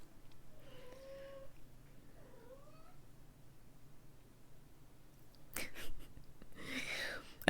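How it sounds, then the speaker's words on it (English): A pet cat named Ori meows twice, two drawn-out, wavering calls close by and fairly quiet, followed by scuffling and clicking noises. "I don't know if you can hear him, but Ori he's meowing."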